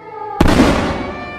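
A single loud, sudden phosphorus bomb blast bursts after a brief quiet lead-in, then rumbles and decays over the next second.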